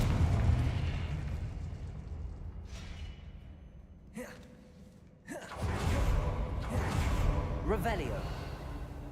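A Confringo spell from Hogwarts Legacy goes off as a sharp burst and then a louder rumbling blast, with game voices and effects heard around it.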